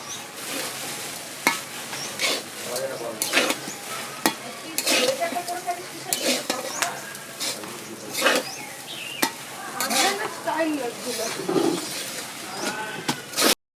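Poha with potatoes being stirred and fried in a pan, a steady sizzle under repeated scraping and clinking strokes of a utensil against the pan, close and fairly loud throughout with no talk.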